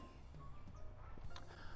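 Faint clucking and calls from chickens under a steady background hum, soft and somewhat distant.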